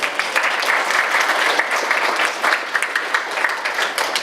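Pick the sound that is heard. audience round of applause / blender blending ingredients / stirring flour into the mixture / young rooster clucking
audience round of applause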